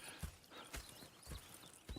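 Horses' hooves clip-clop at a steady walking pace in the Red Dead Redemption 2 video game, near the town of Valentine. The evenly spaced, soft thuds are faint and distant, with no talking.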